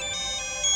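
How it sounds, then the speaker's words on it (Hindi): A mobile phone rings for an incoming call, sounding as a bright electronic ringtone tone held steadily and clearly in a quiet room, with no voices. "अननोन नंबर है, लगता है शिखर का फोन होगा।"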